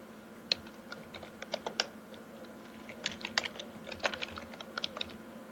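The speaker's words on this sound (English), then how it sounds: "I think he's typing on the thread" Rapid, uneven clicking of computer keyboard keys in quiet indoor room, bursts of keystrokes with brief pauses, close and moderately soft, no talking.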